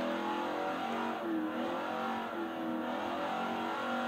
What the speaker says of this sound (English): This car is amazing. It's so loud, though.